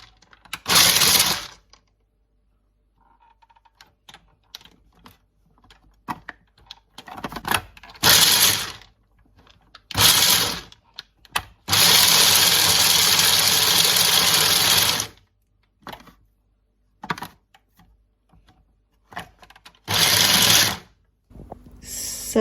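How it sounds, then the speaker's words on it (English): An old, age-yellowed Kenwood food mixer blends biscuits with liver. It runs in loud bursts of whirring and rattling, short pulses first and then one sustained run of about three seconds, with quiet pauses between. "This is my very old Kenwood mixer that has now gone kind of yellow with age, but it still works fine"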